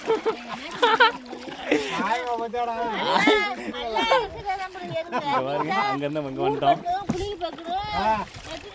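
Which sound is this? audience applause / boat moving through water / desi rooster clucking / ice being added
boat moving through water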